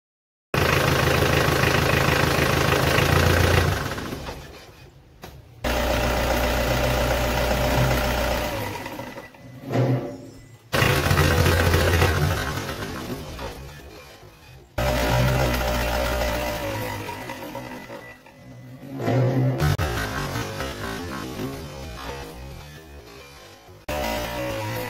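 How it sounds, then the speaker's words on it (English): An older diesel engine shown running and switched off, loud low idling rumble and vibration that cuts out to near silence several times, restarting between stops, with no talk. "So as you have seen, when we turn the engine off, this vibrates less than this engine."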